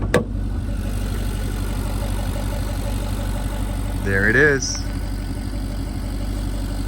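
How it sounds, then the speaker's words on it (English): Idling twin-turbo V8 of a 2019 Ferrari Portofino heard under the open hood, a steady low engine rumble throughout with a brief rise near the end and someone speaking over it. "It's Ferrari's twin turbo V8 engine."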